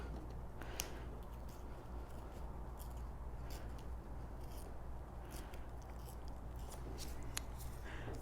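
Paper tearing slowly along a ruler to distress its edges, a soft continuous rasping rip with a few brief sharper crackles, close and fairly quiet over a steady low hum.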